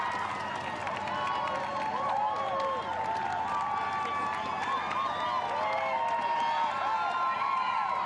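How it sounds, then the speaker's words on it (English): London Marathon 2017 crowd lining the course, a continuous roar of cheering and clapping with whoops rising and falling beneath steady commentary. "Big crowds, lots of cheers."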